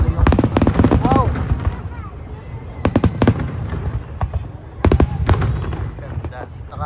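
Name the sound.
fireworks display in Odaiba, Tokyo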